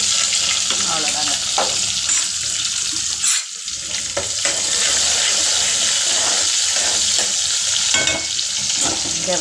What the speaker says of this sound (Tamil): இங்கே வெண்டைக்காய் கட் பண்ணி ஸ்டவ்வில் வச்சுருக்கேங்க. ஆயிலில் எதுவும் போடல, ஃப்ரை பண்ணுறேன்.